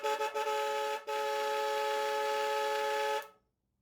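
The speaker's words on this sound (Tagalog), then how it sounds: "Naka-loud horn." A Suzuki Raider J FI 115 motorcycle sounds its loud horn up close as a steady, bright tone, with two short blips, a momentary break and then one long sustained blast before it stops.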